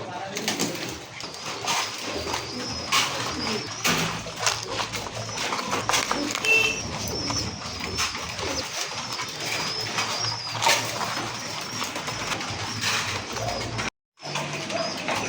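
Pigeons coo at a pigeon seller's stall, their soft calls mixing with the busy chatter of people nearby and occasional wing flutters throughout the market scene.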